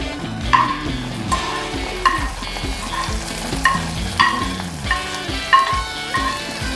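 Cashews and raisins frying in ghee for ada pradhaman, a steady close sizzle with rhythmic stirring scrapes recurring about once per second.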